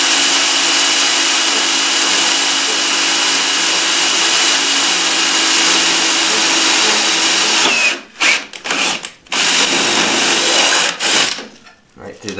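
A power drill boring through steel and aluminum runs loud and steady for several seconds, then stops and starts in short bursts before a final brief run.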